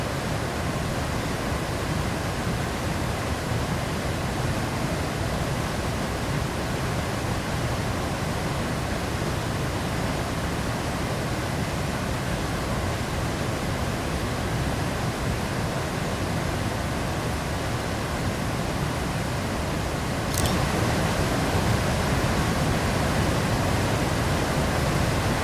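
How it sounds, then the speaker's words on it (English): Steady broadband roar of a waterfall in western Iceland with many smaller cascades around it, constant and enveloping, heard alone with no voices. "it is already quite a beautiful waterfall with a lot of like smaller cascades all the way around right here"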